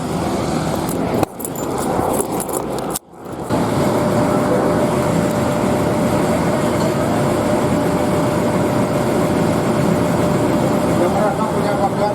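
A replacement bus, standing in for a broken-down one near Jatisari, idles with a steady engine rumble heard from inside the cabin, broken early on by two brief thuds or clunks before the even drone resumes.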